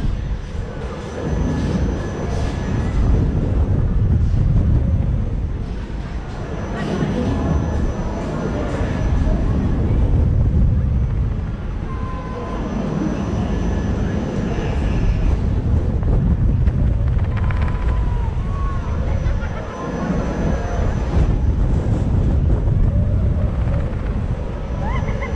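Strong wind at a fair in Evesham, England, buffets the microphone in heavy, roaring gusts that rise and fall continuously, loud and close throughout.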